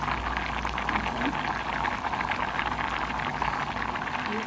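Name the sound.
rice boiling in a pot of water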